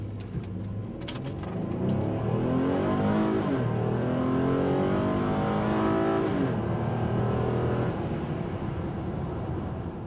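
A 2011 Lincoln MKX with a 305-horsepower V6 and all-wheel drive accelerating hard, its engine rising in a loud, sustained sweep heard from inside the car.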